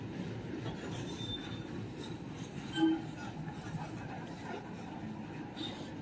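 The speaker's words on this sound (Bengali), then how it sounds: "নসিপুর রেল ব্রিজের ওপরে পাথর ভর্তি গাড়ি এবং ডবল লোকোমোটিভ নিয়ে একদম ব্রিজের ভিতরে প্রবেশ করছে" A double-locomotive train hauling stone-loaded wagons rolls onto the Nasipur rail bridge, giving a steady low rumble of wheels and wagons with faint squeals and a brief louder clank near the middle, heard from a moderate distance.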